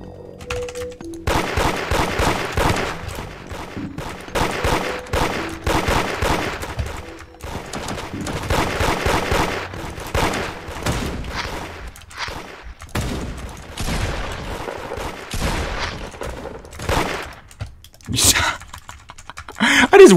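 Rapid, dense bursts of gunfire in Roblox Da Hood, a shotgun among the shots, loud and repeated in clusters with brief gaps and sharp clicks throughout, with no voices.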